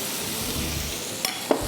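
Boiled potatoes tipped into a pan of spices and stirred, an even frying hiss with a couple of sharp scraping knocks near the end, no voices.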